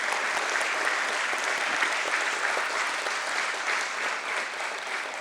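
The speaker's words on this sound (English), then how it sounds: "please give a huge round of applause to all the better halves" Sustained audience applause at a corporate event, a dense, even roar of many hands clapping for over five seconds with no voices over it.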